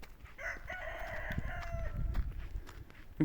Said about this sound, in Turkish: Yine de her zaman her yerde horoz sesi başka oluyor.